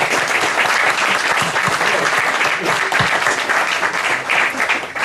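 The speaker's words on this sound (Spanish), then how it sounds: "Entonces yo creo que hay que aplaudirse como los chinos." Loud, sustained applause from an audience at a book presentation in Spain, with dense clapping filling the whole stretch.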